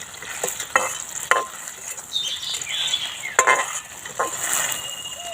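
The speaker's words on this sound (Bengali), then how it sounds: "এইভাবে দিয়ে দুই তিন মিনিট এইভাবে একটু নাড়িয়ে নেবো" Bubbling sizzle of boondi in boiling sugar syrup, with a few sharp metallic scrapes and clinks as it is stirred in a kadai.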